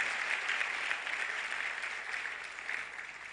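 Applause from a seated youth-dialogue audience, dense and steady clapping filling the room for about three seconds before tapering slightly, with no voices over it.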